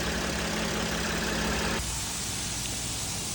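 Mercedes Sprinter 3.0 V6 OM642 diesel engine idling steadily up close with the hood open, a continuous even drone that shifts in tone partway through, alternator suspected of not charging.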